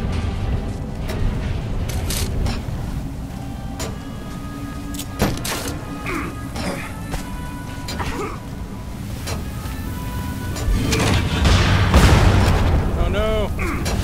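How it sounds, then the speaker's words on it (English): Bombs exploding in the Lara Croft and the Temple of Osiris video game, several sharp booms scattered among game music and effects, with players talking over the action. "Blasting a giant bomb around with bombs."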